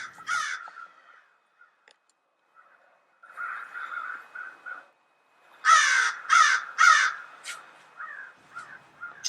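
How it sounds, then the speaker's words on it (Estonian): A crow caws in an audio play: harsh, raspy calls come in scattered groups, first a single caw, then a run of several, then a louder cluster of rapid caws near the end, with no talking. "Vares vaaks lendab"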